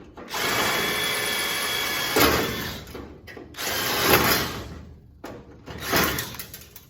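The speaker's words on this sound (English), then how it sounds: "Gotta get the drill after it." A power drill grinds through a rivet in three bursts of high-speed whirring and scraping, separated by brief pauses, loud and close with no talking.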